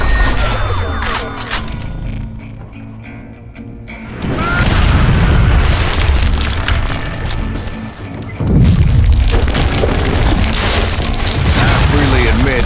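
A mine blows up in Call of Juarez Gunslinger, a loud low boom that rolls out and rumbles on, followed by a second heavy blast partway through.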